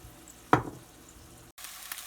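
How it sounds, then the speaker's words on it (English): Eggs are scrambled in a frying pan while making Chinese chicken fried rice: one sharp scrape or clack, a soft sizzle under it, then a short burst of brighter frying noise, with no one talking. "now it's time to scramble the eggs"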